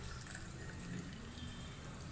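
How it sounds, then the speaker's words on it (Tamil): Water pours steadily into a mixer grinder jar in a home kitchen during biryani preparation, a soft, continuous splashing trickle heard close but quiet, with no talk. "இன்னும் கொஞ்சம் தண்ணி ஊற்றி இதில் ரெண்டாக்கிக்கிறேன்"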